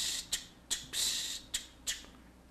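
Hi-hat played stiffly as a literally written jazz chart pattern, an open quarter-note wash followed by short dotted closed chicks, repeating in an even, clipped rhythm, close and alone.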